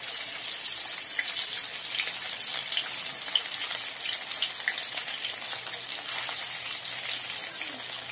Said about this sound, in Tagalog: iprito po muna natin ang ating luncheon meat. Nagpainit na po tayo ng mantika sa ating kawali.